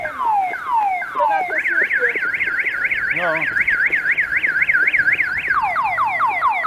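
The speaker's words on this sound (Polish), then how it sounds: "Zdaje się, chyba się alarm" A car alarm sounds near a construction site, cycling through loud rising and falling electronic warbles and whoops on its own, with one brief spoken word.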